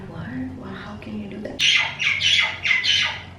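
Several birds squawk loudly near a top-floor home in a series of harsh, rapid calls, coming after a person speaks over a low background hum.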